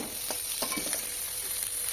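Onion, tomato, green chillies, cashews and raisins sizzle steadily in an oiled pan for a couple of seconds, a close, even frying hiss with faint stirring.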